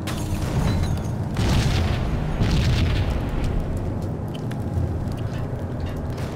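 An explosion in the video game Max Payne booms as a loud, deep rumbling blast with a second surge right after, fading into a lingering low roar.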